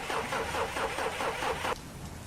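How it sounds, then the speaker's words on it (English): A car starter cranks in a rhythmic series of about four labored pulses without the engine catching, then cuts off abruptly, leaving a steady bed of rain hiss underneath. "I turn the key. The starter moans, coughs, fails to start."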